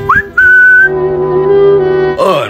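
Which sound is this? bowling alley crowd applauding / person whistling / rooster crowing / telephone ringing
person whistling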